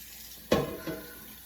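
A kitchen tap runs briefly into a cooking pot to rinse stuck noodles off its bottom, a short close burst of splashing water that trails off quickly.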